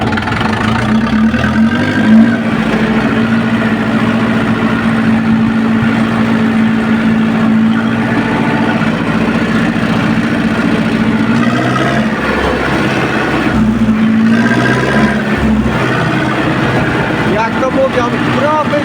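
An Ursus tractor fitted with a Suprowski muffler pulls away in third gear, its engine a loud, steady, close-up drone with a faint whining tone. A voice seems to talk over it.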